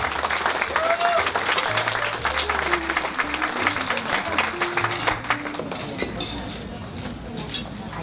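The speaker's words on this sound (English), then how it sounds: "Please give him a warm round of applause" A gala audience applauds the mayor of Malden, Gary Christensen, at an Asian real estate association installation dinner in Boston, with clapping steady across the room while background chatter and some musical tones sit beneath it.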